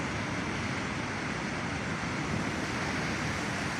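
Ocean surf on the California coast gives a steady, full wash of crashing water, with some wind buffeting the microphone. No one speaks.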